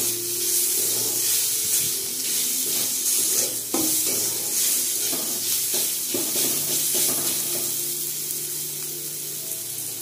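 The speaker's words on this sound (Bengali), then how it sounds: "এবার এই সব মশলাগুলোকে ভালো করে কষিয়ে নেব।" Spices, sugar and raisins sizzle and hiss in hot oil as they are fried and stirred for a chhana dish, a constant close crackle broken by occasional spoon scrapes, with no voices.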